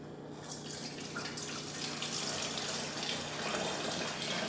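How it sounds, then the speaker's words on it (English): Krupnik liqueur poured back into a vodka bottle, a continuous close gurgling pour of liquid that runs for several seconds without break. "Now we're going to pour it right back into the vodka bottle."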